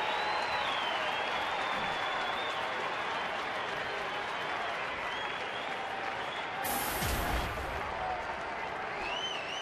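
Baseball stadium crowd at a Dodgers at Diamondbacks game cheers and claps steadily throughout, a loud dense roar with a brief sharp burst near the end.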